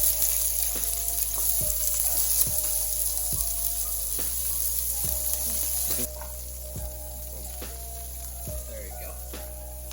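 Onions frying in a pan until crispy brown, a steady close sizzle with occasional stirring clicks and scrapes, while a person briefly speaks over it.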